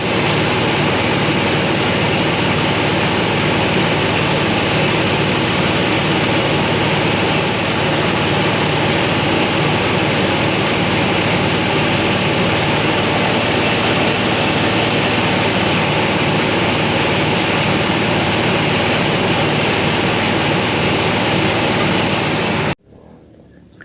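A rice polishing milling machine runs with a dense, continuous industrial roar, loud and steady for over twenty seconds before cutting off abruptly near the end, with no talk.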